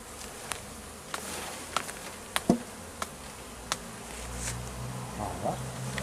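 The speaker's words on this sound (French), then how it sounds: "dans le corps, bah oui, il y a quand même pas mal d'abeilles" Honeybees buzz around a hive during a transfer of nucleus colonies into full hives, a soft continuous hum with several sharp knocks and taps of wooden frames at close range.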